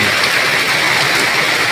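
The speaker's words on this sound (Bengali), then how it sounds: "অবিরাম বৃষ্টি একই ধারায় ঝরছে।" Continuous heavy rain falls in a steady, loud wash of noise without pause or change.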